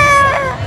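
A person imitates an elephant at a Halloween scream park with a short, loud, brassy trumpeting call that rises and wavers, close to the mic over crowd noise.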